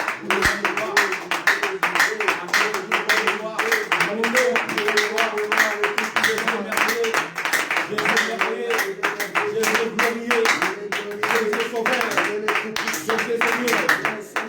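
A church congregation claps steadily in rhythm for several seconds of acclamation, dense and continuous, with singing and voices carrying over the applause.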